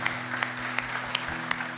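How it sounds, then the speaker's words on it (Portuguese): A church congregation claps for Jesus in a fairly quiet, even rhythm of distinct hand claps over a steady low hum, lasting under two seconds. "Você pode dar uma salva de palmas para o Senhor Jesus?"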